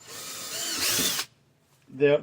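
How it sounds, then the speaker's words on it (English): A power drill with a 1/4 inch bit bores an angled hole into a plastic kayak gear track, whining loudly for about a second before stopping; someone speaks briefly right after. "I'm just going to use a 1/4 drill bit here, and I'm gonna drill at an angle like that"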